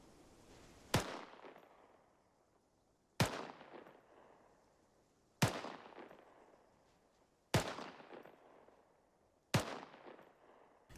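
Five single rifle shots from Arma 3, fired at a steady sustained pace about two seconds apart, each a sharp crack with a short decaying tail, with no talk between them.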